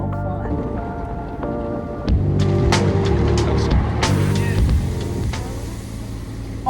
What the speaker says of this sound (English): There's just something about being in a car wash that's so fun.